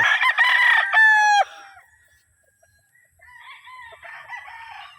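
Gamecock roosters crow loudly and close by in two overlapping calls, followed by quieter distant crowing and clucking from stags and cockerels.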